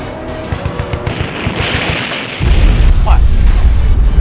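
Missile strikes and gunfire in an action drama about special forces fighting terrorists who seized a village, with loud continuous bursts of shots and booms that swell into a heavier rumbling blast, under shouted dialogue.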